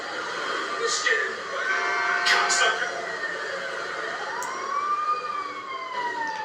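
A wailing video-game ambulance siren in GTA V rises and falls at moderate distance while people talk over it.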